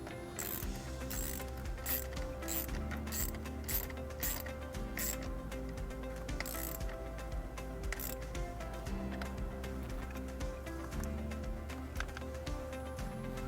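A socket ratchet clicks steadily while tightening the nut on a car battery terminal during a 2016 Mazda 3 wiring harness install, a continuous close mechanical pawl rattle with sharper clicks in bursts.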